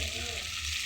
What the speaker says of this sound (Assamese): এনেকৈ 1 মিনিটমান ভাজি লৈছোঁ।